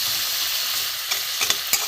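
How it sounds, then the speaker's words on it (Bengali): A spice paste with grated ginger and a spoonful of sugar fries in a hot pan, giving a steady close sizzle, with a few sharp spatula scrapes near the end. "দিয়ে মশলাটা ভালো করে একটু কষে নেব।"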